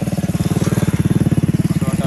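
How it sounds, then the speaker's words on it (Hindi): A motorcycle engine runs close by with a fast, even pulsing thump, loud and steady throughout, carrying a child rider in a rural setting. "ये देखें बाइक चला रहा है कि बाइक कैसे चलती है।"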